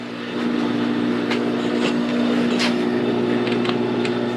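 A small gas engine on an EHCO edger with a broken driveshaft revs up and holds a steady, loud, buzzing drone with no blade action, close by and alone.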